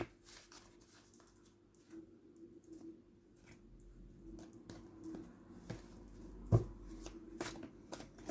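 Tarot cards being shuffled and spilling, a soft run of papery riffles and flicks close by, building to a sharper slap near the end, with a faint cooing bird somewhere in the background.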